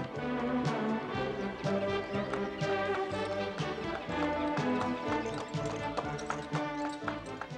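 Hooves clip-clop in a steady trotting rhythm over a full, busy backdrop, the beat continuing throughout.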